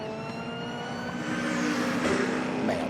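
A time attack race car powering onto the front straight at a race track, a rising high engine whine that builds in loudness toward the end, heard from a distance with no talk.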